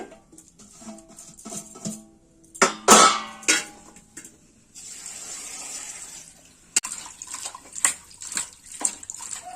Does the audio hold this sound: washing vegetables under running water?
yes